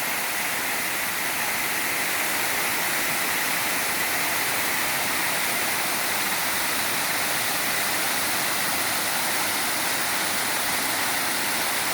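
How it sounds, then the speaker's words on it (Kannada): Rainwater rushing downhill after a heavy overnight downpour, heard as a dense, constant roar of flowing water, close and steady throughout with no voices. "ನೋಡಿ ಯಾವ ಥರ ಇಳಿತಾ ಇದೆ ನೀರು ನೋಡಿ."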